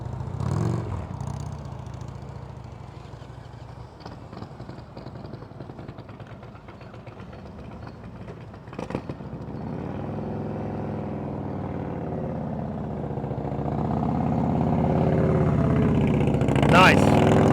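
A motorcycle engine at low revs during advanced slow-speed riding practice, a steady rumbling idle that swells as it rides nearer toward the end, with an instructor talking over it.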